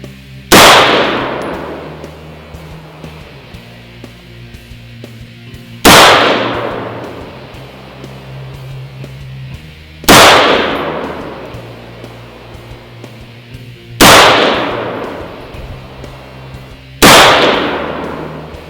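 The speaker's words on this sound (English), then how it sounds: "I'm going to shoot another group with full metal jackets. Another 5-shot." A Sharps Rifle Company 25-45 Sharps rifle fires a five-shot group of full metal jacket rounds: five loud, sharp reports spaced about three to four seconds apart, each ringing out briefly over quiet ambience.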